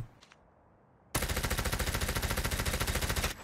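QQ9 submachine gun in Call of Duty Mobile firing one continuous rapid automatic burst of about two seconds, loud and close, after a near-silent start.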